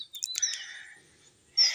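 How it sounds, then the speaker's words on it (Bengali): Near, bright bird chirps and tweets ring out in a quiet tea garden on the India–Bangladesh border in Assam, with a quick burst at the start and another at the end. "চারিদিকে শুধু পাখির কলকাকলি শব্দ"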